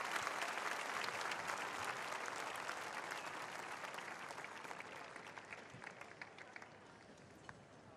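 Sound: audience applauding in honour of Carmen

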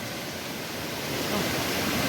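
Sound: waterfall

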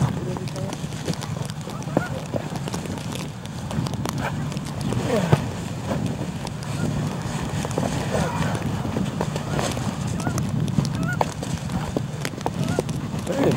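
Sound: flock of birds calling, likely geese

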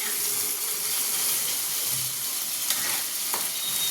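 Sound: egg curry cooking in a pan

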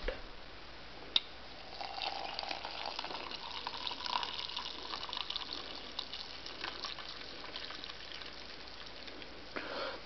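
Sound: pouring hot chocolate into a cup

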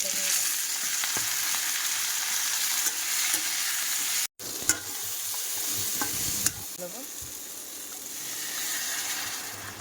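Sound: bay leaves and panch phoron sizzling in hot oil

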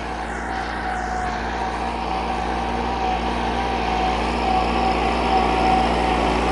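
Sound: old Massey Ferguson MF-375 tractor engine running while ploughing

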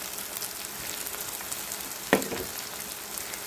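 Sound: tomatoes sautéing in a pan

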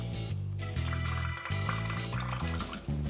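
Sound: squeezing juice into a cocktail shaker

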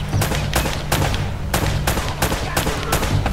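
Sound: gunfire in a fierce gunfight, video game Uncharted PS4

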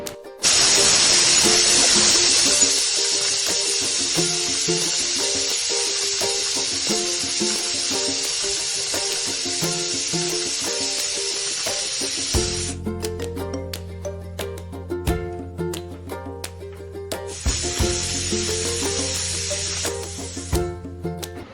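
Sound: pressure cooker hissing steam while cooking chicken biryani

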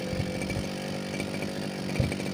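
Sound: gasoline grass cutter engine running

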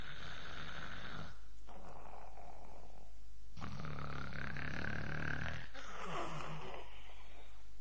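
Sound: storyteller imitating snoring

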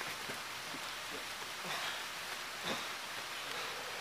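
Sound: rain falling on an outdoor wrestling ring

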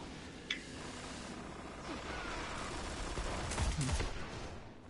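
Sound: Golden Gun super firing in the video game Destiny: Rise of Iron

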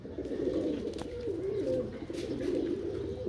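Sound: pigeons flying and cooing

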